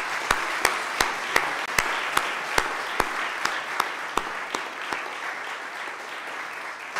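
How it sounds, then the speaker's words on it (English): An audience applauds at an art exhibition opening, a dense wash of clapping with a few sharp, close claps standing out regularly, then thinning toward the end. "maybe I would like just to ask an applause for all these artists"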